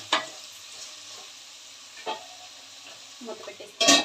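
Chicken curry being stirred in a pan, a few scraping strokes with soft sizzling between them, fairly quiet and close, with a brief louder scrape at the end.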